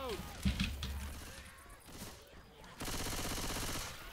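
Rapid gunfire bursts in the Left 4 Dead 2 zombie shooter campaign, a short early volley followed by a denser sustained stretch of shots toward the end, heard under speech.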